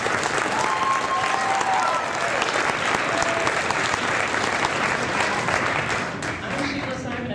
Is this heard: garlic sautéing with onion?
no